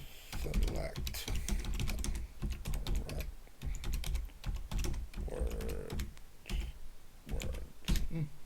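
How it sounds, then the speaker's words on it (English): Someone types on a computer keyboard in irregular bursts of close, clicking keystrokes with short pauses, fairly loud throughout. "Boy, I have bad typing skills."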